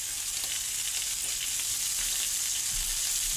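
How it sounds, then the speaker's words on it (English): Bacon with its rind on sizzles steadily in a pan, a close, even hiss and crackle with no voices. "So I'll just flip that over as well. That rind is starting to cook up nicely."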